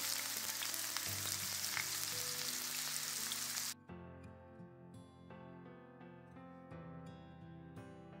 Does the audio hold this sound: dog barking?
no